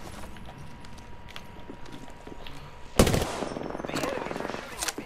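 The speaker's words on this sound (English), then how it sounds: "The enemies are shooting at me." Enemy gunfire in a shooter video game: quiet, distant rattling for about three seconds, then a loud, sharp burst followed by sustained rapid automatic fire that lasts to the end, with no talking.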